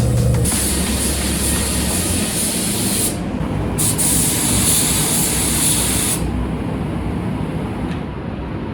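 A spray gun hisses steadily and loudly for several seconds, spraying paint onto a rusty 2009 Audi A4 B8, with brief dips and pauses in the spray.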